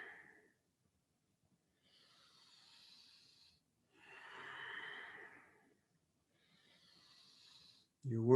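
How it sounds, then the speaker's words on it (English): Deep breaths in a kundalini yoga lung exercise, three slow airy breaths spaced a couple of seconds apart, quiet and close, with a brief voice at the very end. "Big inhales, big exhales."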